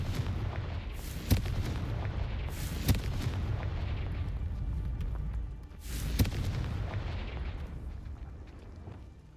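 Blasting spell explosions in Hogwarts Legacy, three sharp booming bursts spaced a few seconds apart over a continuous rumbling game soundscape, with no talking.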